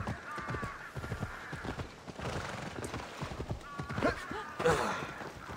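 Horse hooves clip-clop steadily in Assassin's Creed Odyssey, a rhythmic mid-level trot with a whinny near the end, while someone talks over it throughout.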